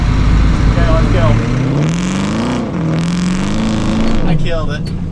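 Off-road vehicle engine revving loudly while the clutch is slipped during a stuck-vehicle recovery: a strained, wavering roar that climbs and dips in pitch, close and continuous, with a brief surge of harsher noise near the end.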